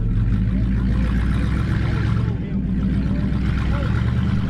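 A 1955 Ford with an untested transmission drives down the road, its engine giving a steady, loud low drone with a faint rise in revs, close and continuous throughout.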